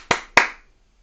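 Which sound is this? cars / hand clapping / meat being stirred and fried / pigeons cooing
hand clapping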